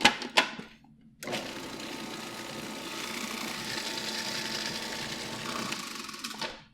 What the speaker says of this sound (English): we're just going to mix it all together